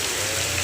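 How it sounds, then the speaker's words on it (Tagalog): Steady rain falls outdoors while a rider waits under shelter, a dense, even hiss of drops hitting surfaces with no voices, brief and constant. "pangsamantala hihintayin natin yung ulan na humina"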